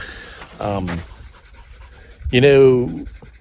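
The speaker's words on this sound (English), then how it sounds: "The dogs are panting because they're getting the exercise they love." Two short bursts of heavy, rhythmic dog panting, close to the microphone, separated by a brief pause.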